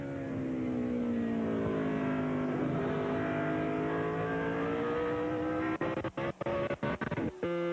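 Race car engines screaming at high RPM at Watkins Glen, a loud sustained whine with shifting pitch, broken by choppy signal dropouts near the end.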